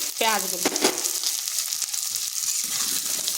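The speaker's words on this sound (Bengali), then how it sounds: "পেঁয়াজগুলোকে হালকা ভেজে নিচ্ছি।" Onions fry lightly in a pan with a steady, moderate sizzle and a few stirring clicks, while a brief voice-like tone sounds at the start.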